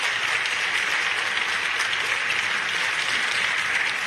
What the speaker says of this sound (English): That's what Democrats are clapping for.